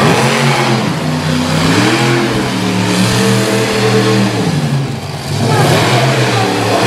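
A monster truck engine revs hard at a dirt-track show in Little Valley, New York, a loud continuous roar rising and falling in pitch with crowd noise beneath.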